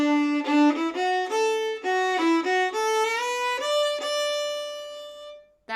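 Solo Irish fiddle playing the first section of a tune, a clear, close run of bowed notes climbing and dipping at a lively, even pace before settling on a sustained final note.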